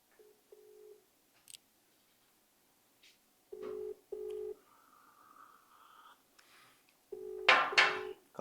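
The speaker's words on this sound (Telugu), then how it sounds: "ఒక్కసారి కౌశిక్ రెడ్డికి ఫోన్ చేద్దాం." A telephone call being placed: a few short dialing tones, then repeated ringback tones in pairs with quiet gaps between them, clear and close with faint clicks.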